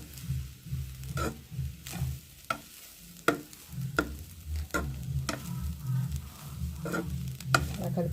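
Carrot pulihora being stirred in a hot pan, with a soft steady sizzle and repeated scraping strokes of the spoon through the rice, close and fairly quiet.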